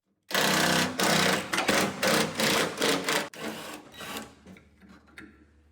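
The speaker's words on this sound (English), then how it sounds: "Now I can unscrew these shackles and remove these 12mm bolts on the hinge bracket." Power tool unscrewing 12mm bolts from a tailgate hinge bracket on a first-generation Toyota 4Runner: loud, close rattling bursts of whirring, about six in a row, then fading into quieter ratcheting.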